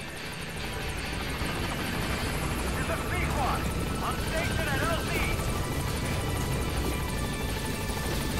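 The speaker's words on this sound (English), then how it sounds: "Now just wait for the helicopter to be in position." A helicopter's rotor hum in Metal Gear Solid V: The Phantom Pain drones steadily in the background as it moves into position, constant and moderately loud, with faint chirping sounds over it.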